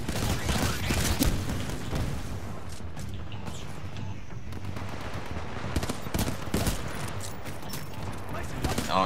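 Game gunfire from a three-round burst weapon comes as repeated quick volleys of shots, fairly loud, while a voice talks over parts of the fighting.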